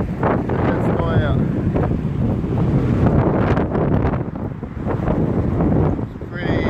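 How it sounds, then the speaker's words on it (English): Gale-force wind buffeting a boat at sea during a sudden storm, loud roaring gusts battering the microphone continuously throughout, with faint voice-like sounds mixed in. "now we're blowing a gale, went from calm to gale in a split second"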